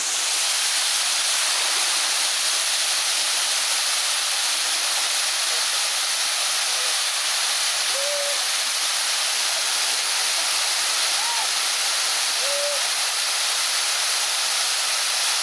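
Mountain valley stream at Sammaksa valley near Seoul, a steady, loud rush of flowing water close by, with a few faint bird chirps breaking through in the second half.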